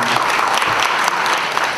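Applause from a university lecture audience after a talk on democracy, a steady, dense, continuous wash of many hands clapping at even loudness throughout.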